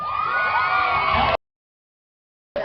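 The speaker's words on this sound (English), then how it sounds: "Give them another round of applause" A young audience at a Victorious cast Q&A in the UK screams and cheers in a loud, continuous roar that cuts off suddenly into silence, then briefly returns at the very end.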